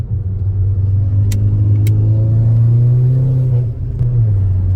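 A VW Golf 6 R tuned to Stage 2+ revs hard and close, its engine note climbing and holding a loud, smooth rumble before easing off briefly and picking up again.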